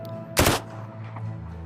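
A single short burst from a Sten submachine gun in the game Plastic Battlegrounds, a sharp rattling volley lasting a fraction of a second over a low steady background hum.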